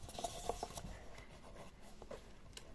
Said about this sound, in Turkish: Ah kalem yazdım.